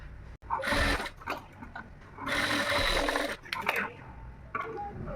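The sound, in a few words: sewing machine stitching hook strip on blouse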